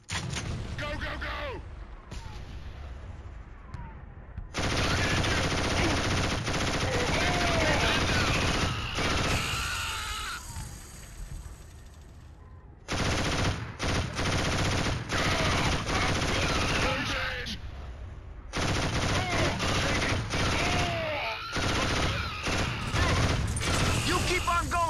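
Loud, close machine gun fire in the PS3 game Killzone comes in long sustained bursts separated by short lulls, with explosions and shouted voices mixed in.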